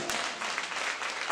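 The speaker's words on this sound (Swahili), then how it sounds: "Makofi kwa Yesu aliye hai" Church congregation clapping for Jesus during a sermon, a brief burst of dense, steady applause from many hands, fairly loud and continuous.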